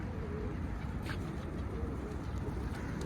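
A pigeon chick coos softly in a pigeon loft, a few brief low calls over steady background noise, with no speech.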